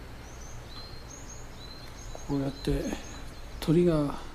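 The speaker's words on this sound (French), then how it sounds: "Nous entendons des oiseaux chanter." Small birds chirp and sing around a Soto Zen temple in green surroundings, giving brief high tweets through a quiet background until a person starts talking over them near the end.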